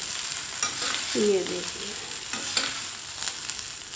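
Fried potato and poha being stirred in a pan, with soft scraping and tossing strokes over a low sizzle. A brief voice speaks near the start.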